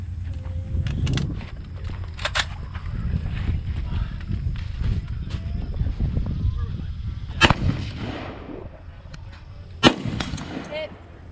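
Gunfire during a tactical games skirmish stage at a shooting range, a couple of sharp, distant-sounding shots standing out over steady outdoor rumble and movement noise, with people talking.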